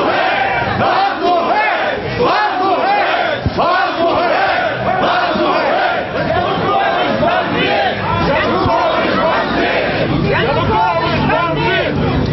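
Loud, dense protest crowd at a city council picket in Zhytomyr, chanting slogans in unison with shouts rising over continuous babble throughout.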